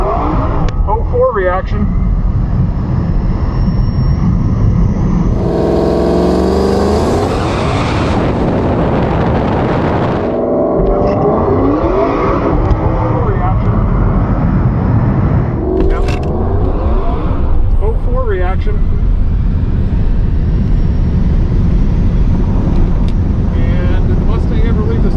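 A Tesla Model S Plaid launches hard at a drag strip, a deep rising rumble and whoosh surging past mid-run among crowd and track noise, with people talking over it.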